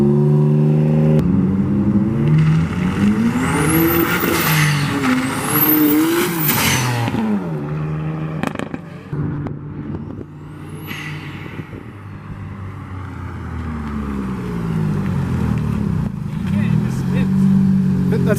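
Turbocharged J32 V6 in a Honda Civic pulling in first gear, two quick rising revs followed by a lull, then the engine building again, with people talking over it.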